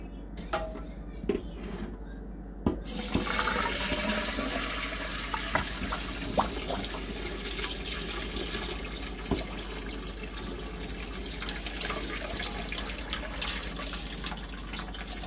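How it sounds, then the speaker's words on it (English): Tap water runs steadily into a sink as dry beans are rinsed and drained, a continuous close splashing wash with occasional drips and clinks, no voices over it. "I am ready to wash these beans really good. I'm going to drain them."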